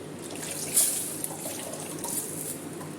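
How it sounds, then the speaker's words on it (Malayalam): Tamarind is squeezed by hand in water and poured into a curry, giving a faint, soft liquid trickle and dribble with one brief splashy spot early on. "ഇനി നമുക്ക് ഈ പുളി പിഴിഞ്ഞ് ഒഴിക്കാം."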